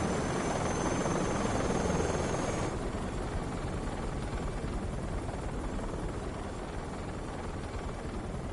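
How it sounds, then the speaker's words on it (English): Helicopters fly in the video game Metal Gear Solid Delta: Snake Eater, a steady loud rotor drone that holds without a break and softens slightly partway through, with no voices. "choppers flying."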